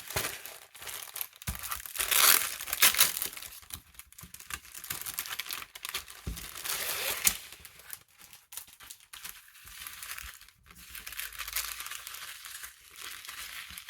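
Embroidery kit package being unpacked, with close plastic packaging crinkling, crumpling and rustling in irregular bursts and handling noises, no talking.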